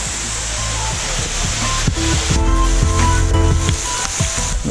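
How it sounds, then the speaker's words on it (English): A waterfall at Twin Falls in Springbrook National Park rushes with a steady broadband roar, while a person talks and footsteps and handling noises come and go nearby. "That's one of the waterfalls, and then that one you can clearly see."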